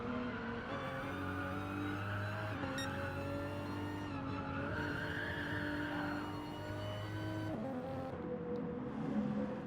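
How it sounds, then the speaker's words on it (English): A race car drifts in a racing game, its engine droning steadily with shifting pitch while the tyres skid and squeal under the motor, close and continuous. "Little bit of a drift."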